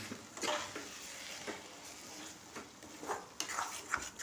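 Tomato thokku sautéing in a pan, with a steady low sizzle of frying broken by several clear scraping stirs and light clinks of a spoon against the metal, heard close up with no voices.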